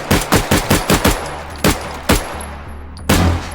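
Automatic gunfire from an 80-round drum-magazine gun in the VR shooter H3VR: rapid loud bursts of shots, then a few spaced single shots and a final blast, close and alone.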